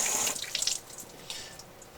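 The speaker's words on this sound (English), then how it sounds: "and there comes the water out" Water gushes steadily out of a 2006 Jeep Wrangler TJ heater core during a flush, a hissy splashing stream that is loudest at first and then settles to a softer, even flow with no voices.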